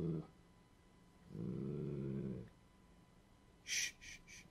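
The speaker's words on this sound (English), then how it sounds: "Zoe, my dog, has been growling like every couple hours. And she just started doing it." A pet dog named Zoe growling in a pitch-black bedroom at night: a short low rumble, then a longer steady growl lasting about a second, quiet and close, followed by a few brief higher rustles.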